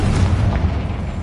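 A Confringo blasting spell detonates in Hogwarts Legacy, a single dull, heavy boom with a rumbling low end that holds steady for about a second, loud and close with no talking.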